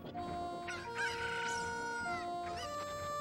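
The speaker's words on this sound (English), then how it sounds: "So here I'm gonna get the chicken mad to start a cutscene" An angry chicken clucks and squawks in The Legend of Zelda: Ocarina of Time, its agitated cries rising over steady, tonal in-game music throughout.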